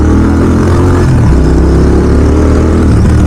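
Royal Enfield GT 650 motorcycle engine on an off-road ride, a loud, steady low rumble that runs throughout with a slight shift in pitch partway through, with no talking.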